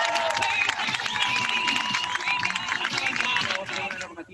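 A live audience applauds and cheers at an event, a dense crowd of clapping that holds steady then fades near the end, with a voice speaking over it.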